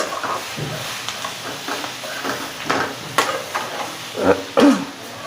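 Karela (bitter gourd) fries with spices in a pan. A soft sizzling hiss runs throughout, broken by several scraping stirs and clinks of a spoon against the pan, the louder ones coming near the end.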